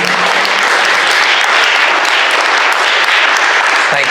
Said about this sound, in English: Should we give a round of applause to David Wilkinson?